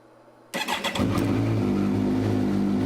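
A car engine on a freshly installed stock-location battery cranks briefly in a few quick stuttering pulses, then catches and settles into a loud steady idle, close by with no talking.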